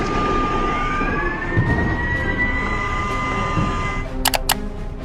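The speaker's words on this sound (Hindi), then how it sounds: "कल जम्मू में शाम ढलते ही हवाई हमलों के सायरन बजने लगे।" Air raid sirens sounding over Jammu at dusk: long wavering wails rising and falling together, heard from a distance over steady outdoor rumble, with a few sharp clicks near the end.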